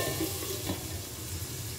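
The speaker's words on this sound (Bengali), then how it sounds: "সেরকম বেগুনটা নিয়ে আগে বেগুনটা কিন্তু একটু ভেজে নেব" Eggplant fries in a pan before being simmered with chickpea greens, giving a steady, close sizzle with soft stirring scrapes running throughout and no voices.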